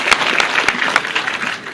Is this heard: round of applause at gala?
yes